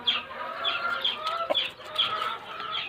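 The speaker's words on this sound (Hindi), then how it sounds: "ये वही मुर्गा है जो एक आँख से काना है" A rooster that is blind in one eye clucks repeatedly in short, rhythmic calls, close and fairly loud, with faint background farmyard noise.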